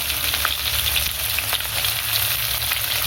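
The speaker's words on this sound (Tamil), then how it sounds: "நசுக்கி வச்சுருக்க பூண்டு வெங்காயம்லாம் போட்டுக்கோங்க. செய்யும் போது வாசனை அப்படி வருது." Crushed garlic and onions with curry leaves fry for vatha kuzhambu, giving a dense, continuous sizzle close up with a few faint stirring clicks and no voices.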